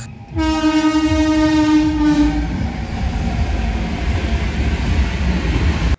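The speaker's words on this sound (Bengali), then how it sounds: "দু দুটো ট্রেন পাস হলো" A train horn blasts loudly for a couple of seconds, then the heavy rumble and clatter of a train passing through a station continues nearby.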